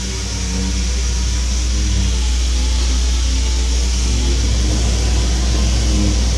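Car slowly accelerating during a taximeter test, a steady low engine drone that rises gently and evenly, close and loud, without any voices.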